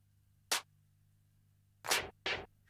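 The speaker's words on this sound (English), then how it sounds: "So if you listen to those claps together, it sounds like this." Clap samples in a music production loop: one crisp clap, a pause, then two more claps in quick succession, loud and dry over near silence with no talking.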